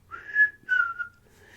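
A person gives a loud whistle imitating a familiar whistle from Local58, in two sustained high tones with a short gap between them. A fainter tail follows, and the whistle is heard alone.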